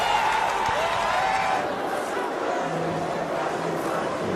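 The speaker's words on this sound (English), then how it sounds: "The crowd goes wild." Stadium crowd at a one-day international cricket match in South Africa cheering and applauding a batsman's century, a dense, sustained roar of many voices with steady loudness throughout.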